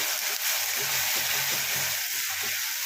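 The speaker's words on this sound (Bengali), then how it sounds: "এবারে এতে এই পেঁয়াজ রসুন আদার যে পেস্টটা করে রেখেছি এটা দিয়ে দিলাম। এটাও ভালো করে কষিয়ে নেব" Onion, garlic and ginger paste frying in a hot oiled pan, giving a steady broadband sizzle with soft stirring scrapes throughout, close and continuous.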